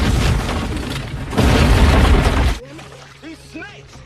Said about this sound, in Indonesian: Setelah terpasang, mereka lalu meledakkannya.